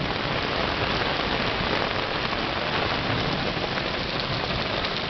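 Steady, dense rain pours throughout a wind storm on an island, a constant broadband hiss with no gaps, loud and close as if drumming on nearby surfaces.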